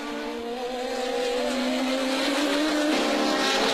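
Formula 1 cars race at the Spanish Grand Prix, a high engine whine climbing steadily in pitch as the cars accelerate, loud and continuous with no voices.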